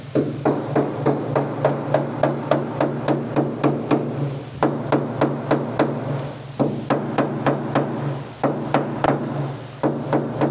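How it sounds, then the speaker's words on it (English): A hammer taps out small dents in the body metal of a Holden HZ car under restoration, striking in fast, steady, ringing bursts for the whole stretch, close and loud, with no voices. "Sounds like he's given it such a good whack"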